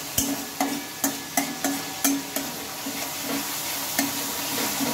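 Spice masala sautéing in oil in a pan for a vegetarian chana dal and soya chunk dish, a steady soft sizzle broken by regular sharp scraping strokes of a spatula, close by with no talking.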